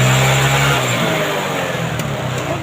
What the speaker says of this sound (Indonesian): ini motor sudah bisa menyala ya